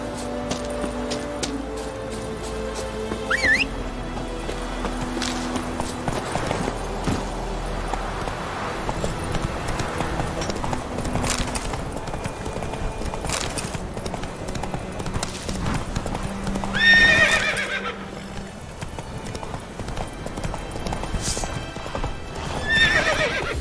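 Roach, Geralt's horse in The Witcher 3: Wild Hunt, gallops with steady rapid clip-clop hoofbeats and whinnies loudly partway through, set against a game music bed.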